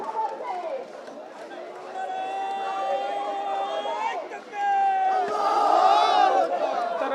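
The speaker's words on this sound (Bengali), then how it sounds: "তারা এখানে বিভিন্ন ধরনের স্লোগান দিচ্ছেন" Chhatra Shibir activists at a sit-in demanding a ban on the Awami League chant slogans together, a loud, sustained crowd of voices rising and falling in drawn-out phrases, swelling louder toward the end.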